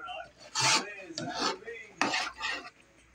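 Ube halaya jam is stirred and scraped in a pan, giving rhythmic rasping strokes with metallic clinks, close and fairly loud, repeating several times.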